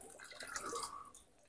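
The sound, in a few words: water running from a turned-on tap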